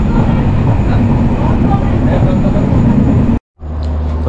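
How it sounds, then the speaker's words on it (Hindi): A train arriving at Mohali station, a steady loud rumble and hum from inside that cuts out abruptly near the end before a lower drone resumes. "तो अभी ट्रेन पहुंची है मोहाली"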